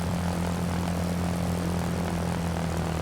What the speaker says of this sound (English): Bring your throttle up and gain some altitude.